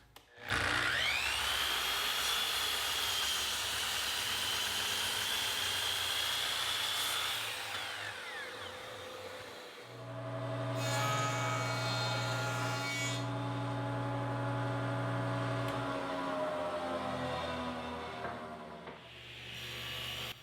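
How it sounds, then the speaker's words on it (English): A power saw rough-cutting 5/4 white oak boards to length, a loud sustained whine that drops as the blade bites, then a second long cut with strong tonal hum, close and alone. "I'll get started by rough cutting the boards to length"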